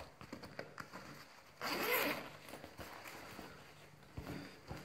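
The zipper on a Reiko Aoki tote bag from the Manhattan Cafe series, with a branded logo pull, runs in one loud, close zip of about half a second, set between faint handling rustles and light scrapes.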